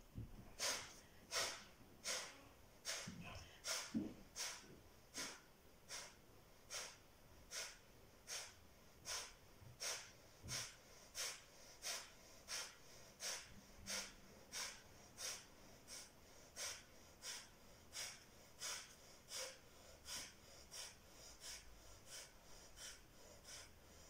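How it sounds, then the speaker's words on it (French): Kapalabhati yoga breathing, with sharp forceful exhalations pushed through the nose in a steady rapid rhythm, about one burst per second, close and clear with no talking. "Et on enchaîne avec Kapalabhati."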